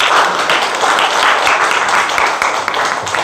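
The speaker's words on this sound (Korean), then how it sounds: "박수 부탁드리겠습니다" A church congregation gives loud, continuous applause during a Sunday service honouring two retiring deaconesses, the clapping dense and close throughout.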